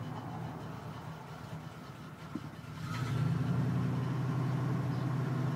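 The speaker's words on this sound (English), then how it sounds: "That's why it doesn't idle quite smoothly at startup." A Ford pickup truck engine idles after a warm start, its carburetor loading up so the idle runs slightly rough. A steady low drone swells noticeably louder midway and holds.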